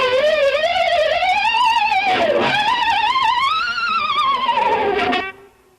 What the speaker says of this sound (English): to bend down and up and wiggle at the same time and still hit the harmonics with your left hand